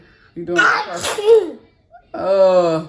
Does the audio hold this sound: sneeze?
yes